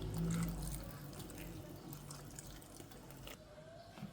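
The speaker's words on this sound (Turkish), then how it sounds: "Suyunu ilave ettim. Şimdi artık e, dolmamın üzerine döküyorum." A mixture of water, pepper paste and tomato paste is poured over stuffed summer vegetables in a pan, giving a faint, soft trickling splash that fades after a brief louder start.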